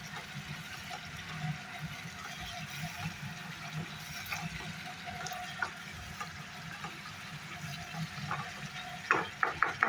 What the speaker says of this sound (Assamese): মছলাটো ভাজা হৈ থাকক মই মানে গেছৰ ফ্লেমটো কমাই দিওঁ